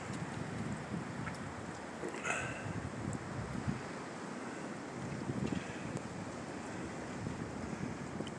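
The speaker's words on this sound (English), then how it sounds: "Very blustery winds out here." Blustery outdoor wind buffets the microphone in a steady low rumble with occasional gusts and faint rustles, fairly quiet overall.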